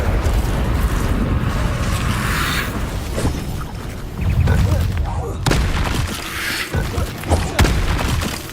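The Incendio fire spell being cast in a Hogwarts video game, producing loud whooshing, crackling bursts and heavy thumps that come in repeated waves, with sharp impacts scattered throughout.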